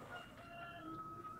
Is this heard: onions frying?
no